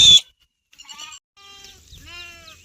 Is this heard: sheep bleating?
yes